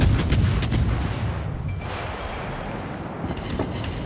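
Destroyer Fubuki firing its guns in World of Warships, a loud booming barrage of rapid shots up front that settles into a rumbling roar, with one more faint report near the end.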